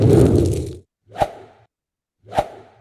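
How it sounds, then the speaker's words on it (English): A short whoosh sound effect: a fuller rushing swish is followed by two quick, sharp swishes separated by silence, all crisp and close. "for example short whooshes"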